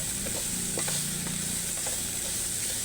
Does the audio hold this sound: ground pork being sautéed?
yes